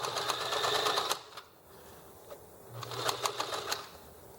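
A sewing machine stitches a drawstring bag in two short whirring bursts separated by a quiet pause, close and moderately soft.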